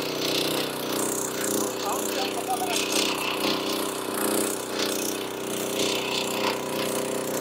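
A 9HP mini tractor power weeder with an 8-foot rotavator tills soil in a field, its engine running as a steady, loud, gritty drone with a rattling churn throughout, while a voice talks over it.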